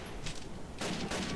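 Gunfire from the video game Call of Duty comes in two bursts of rapid shots, sounding somewhat distant and muffled under a dense, noisy background.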